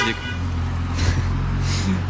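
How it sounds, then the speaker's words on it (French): A car horn honks amid steady road traffic and idling engine rumble near a parked Aston Martin Vanquish 2025, loud and close, in two short bursts over the continuous vehicle noise. "le klaxon il était fort, ça m'a fait peur limite"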